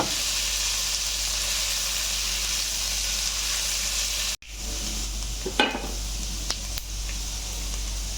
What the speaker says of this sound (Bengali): আর আদা কুচি একটু ব্রাউন করে ভাজবো